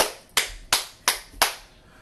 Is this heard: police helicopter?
no